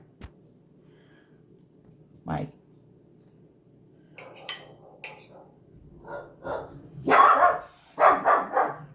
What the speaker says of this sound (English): Oh, and there's my dog.